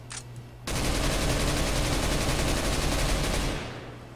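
Sustained full-auto gunfire from a rifle in CS:GO, a dense unbroken burst of about three seconds with the trigger held down, loud and close, following a few faint clicks and then tapering off.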